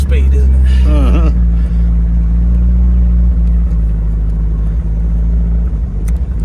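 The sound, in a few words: 1976 MGB Roadster car driving, engine running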